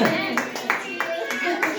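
Group of people clapping at a birthday celebration, quick repeated handclaps in a steady rhythm, close by, with voices chatting underneath.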